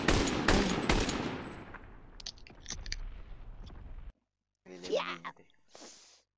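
Close machine gun fire in Call of Duty WWII, a rapid burst of loud shots trailing into scattered pops, then a pause and brief voices speaking.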